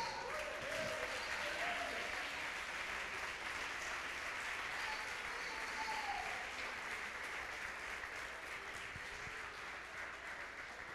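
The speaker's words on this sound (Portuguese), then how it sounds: "Quem recebe isso aí vai dando glória a Deus e vai aplaudindo o Senhor." Church congregation applauding during a sermon, a faint, continuous wash of clapping heard from a distance, with a few brief murmured voices mixed in.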